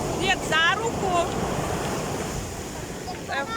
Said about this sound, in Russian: Обалдеть, какие волны.